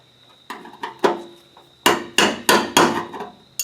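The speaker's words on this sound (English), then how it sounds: "I've got a brass punch here with a brass hammer" A brass hammer striking a brass punch on the fuel pump of a 1996 Chevy truck, about eight ringing metallic taps close up, first sparse and then in a quicker, steady run.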